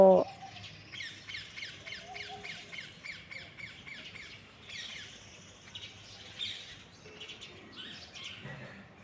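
Pigeons calling in a quick, regular run of squawky notes, fairly close, with a sharp knock at the very start.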